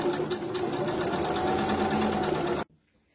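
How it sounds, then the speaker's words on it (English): Sewing machine stitching the center front seam of a garment with a half-inch seam allowance, a fast steady whirring run close by that stops abruptly near the end, leaving near silence. "we're just going to line that up and sew from the notch down with a 1/2 inch seam allowance"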